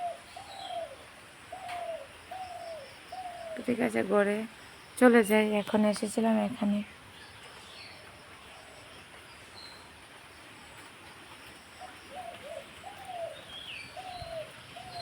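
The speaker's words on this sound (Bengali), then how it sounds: "সকালবেলা পাখিগুলোর শব্দ এত ভালো লাগে" Pigeons coo steadily in a rainy morning garden at home, soft repeated calls spaced a couple of seconds apart, with someone talking briefly midway.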